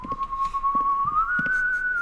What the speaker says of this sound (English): You go, you whistle